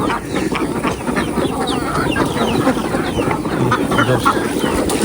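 A flock of about a hundred ducks feeding noisily up close, with busy dabbling, pecking and scattered quacks and calls throughout.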